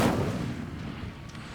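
A fire spell cast by the player in Hogwarts Legacy, a single loud whooshing burst with a booming onset that rolls off into a sustained roar over about a second and a half.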